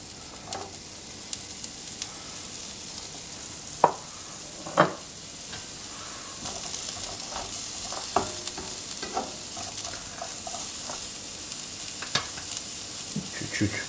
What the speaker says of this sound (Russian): Дальше мы обжариваем морковь и сельдерей.